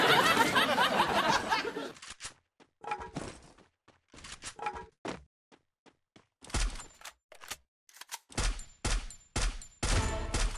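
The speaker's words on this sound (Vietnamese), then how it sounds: "Tụi nó đang bắn nhau tùm lum loạn sang ngầu kia anh em à." Gunfire in the battle-royale game Free Fire: after a dense burst of continuous shooting, scattered single shots and short bursts crack out irregularly, some distant and some close, with brief gaps between.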